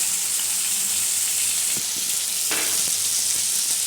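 Black and white mustard seeds sizzle in hot oil as a continuous, loud hiss that stays even throughout, with a few faint spatters and pops near the middle.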